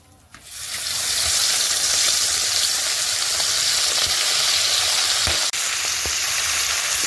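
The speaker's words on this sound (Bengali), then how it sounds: "আগে চিংড়ি মাছটা ভাজা নেব" Prawns coated in salt and turmeric sizzle loudly in hot mustard oil, a continuous crackling hiss with a few sharp pops, and no voices.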